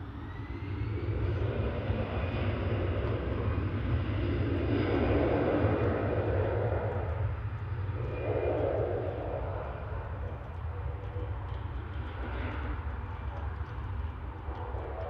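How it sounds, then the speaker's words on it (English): An EasyJet Airbus A319 at Manchester Airport, engines building into a steady, broad roar as it rolls for takeoff, loud and sustained with a deep rumble throughout. "EasyJet to Faro, just about to roll."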